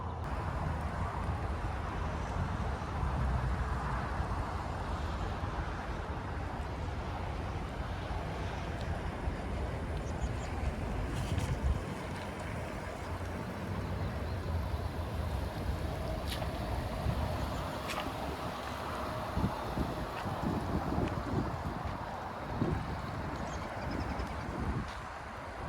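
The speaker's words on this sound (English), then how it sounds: "take this new 2022 GMC Sierra 1500 SLT out on the" Cabin of a 2022 GMC Sierra 1500 SLT crew cab with the 5.3L V8 on the road: a steady low rumble of road and engine noise with wind hiss throughout, a few light knocks and rattles, and no talking.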